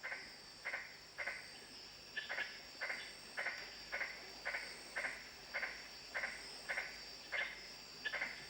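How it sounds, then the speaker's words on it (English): A tree frog, too heavy for branches, calls among sandstone cliffs in the Kimberley, giving a faint, evenly spaced series of short croaks about every half second over a steady insect hum. "Although classified as a tree frog, the adult is too heavy for light branches and forages instead along the sandstone cliffs."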